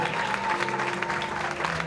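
Congregation applause in a church anniversary service, dense steady clapping filling the room, with a sustained tone and some voices underneath.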